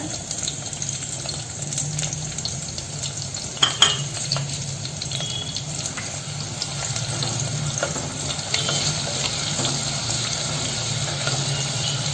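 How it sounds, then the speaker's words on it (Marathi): Continuous close sizzling of finely chopped onion frying in tempering oil, with occasional utensil clinks and stirring scrapes, steady throughout and no speech. "हा थोडासा बारीक चिरलेला कांदा आहे तो पण आपण फोडणीला टाकून घेऊया"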